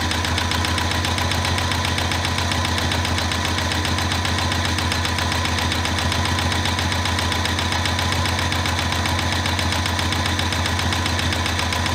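A sewing machine runs continuously while stitching a fabric border, a dense, steady mechanical whir and rapid needle pulse that stays close and unbroken for the full twelve seconds, with no voices.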